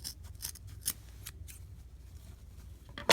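Scissors snipping through tulle bow loops, a few quick close crisp cuts and soft rustling, ending in a louder final snip.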